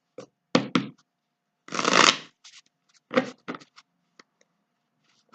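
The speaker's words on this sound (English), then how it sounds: "let me go ahead and shuffle the cards for Leo" Tarot cards being shuffled in several separate bursts, a riffle and crisp flutters of card stock, close and fairly loud, with quiet gaps between.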